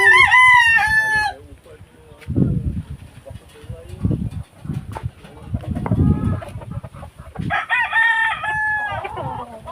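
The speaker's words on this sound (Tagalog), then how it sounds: "Mga panabong na manok" A fighting rooster crows loudly at the start, followed by low clucking and scuffling from fighting roosters at morning feeding, then another crow near the end, all close by.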